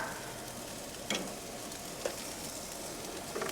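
Pieces of a South Texas delicacy sear on a grill, a constant crackling sizzle with a few sharper pops and scraping touches as they are turned, close and fairly quiet.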